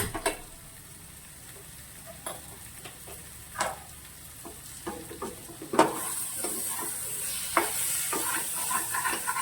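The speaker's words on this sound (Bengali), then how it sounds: "আলুর সাথে মশলাটা কষানো হয়ে গেছে।" Potatoes sautéing with spices in a pan for an aloo potol chingri dish: a steady sizzle runs throughout, broken by scattered scraping clicks of stirring, with no one speaking.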